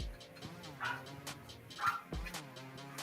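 A small dog gives a few sharp barks and yips, scattered among indoor background sounds.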